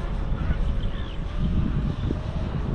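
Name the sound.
strong wind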